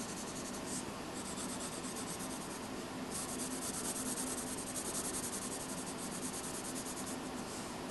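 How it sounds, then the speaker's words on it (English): Pencil shading on paper while highlighting a drawing of a triangular solid in perspective, a steady close scratchy rubbing that continues without a break throughout, with no talking. "I'm going to put the pen down and actually highlight the top"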